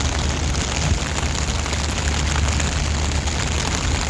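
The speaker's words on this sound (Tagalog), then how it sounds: "Marinig nyo guys ang ulan." Heavy rain pouring down in Hong Kong, a dense, steady roar of downpour that stays loud and even throughout with no voices.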